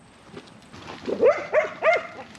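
Working sheepdogs at the yards on an Australian sheep farm give a few sharp barks, three close, loud calls in quick succession after quieter shuffling.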